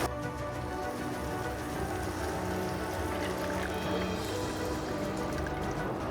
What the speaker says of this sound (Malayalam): അപ്പോൾ വെള്ളം ഒഴിച്ചെടുക്കാം.